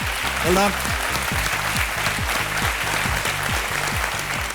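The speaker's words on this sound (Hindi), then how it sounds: "तालियां पहले बज गई।" Studio audience applauding on an Indian television quiz show after a correct answer, a steady dense wash of clapping that fills the whole stretch, with a host's voice and a musical sting sounding over it.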